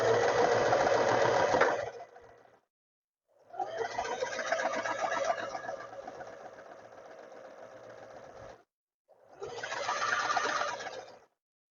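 A sewing machine stitches a dart in fabric for trousers, running in three steady buzzing runs separated by short pauses, close and alone.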